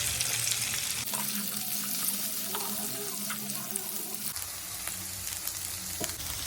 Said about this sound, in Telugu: ఇప్పుడు మనం కట్ చేసి ఉంచిన దొండకాయ పీసెస్ వేసి బాగా వేయించండి